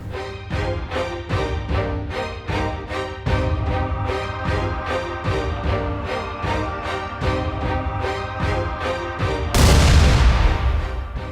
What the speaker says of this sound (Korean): 터널의 구멍을 뚫어 다이너마이트를 넣고 폭발시킨 뒤 환기를 시킵니다